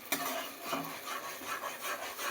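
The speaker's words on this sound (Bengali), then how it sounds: "এবার মশলাটাকে খানিক্ষণ কষিয়ে নিই" Masala with split green chillies being stirred and scraped in a pan for soy chunk kofta curry: steady close rasping and rubbing strokes of a spatula, fairly quiet, with no voices.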